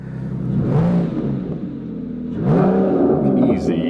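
A cheap used supercar's engine fires up and revs twice, each rising swell climbing then falling away, close and loud with someone talking over it.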